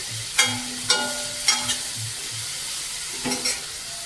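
Pumpkin is stir-fried in a pan at home, a steady sizzle broken by several sharp scraping clacks of a spatula against the pan at irregular intervals, close and without talk.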